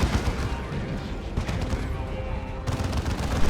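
Rapid heavy weapons fire, including a lascannon, from a Dawn of War 2: Retribution battle, dense and continuous with booming bursts throughout and a louder blast near the end.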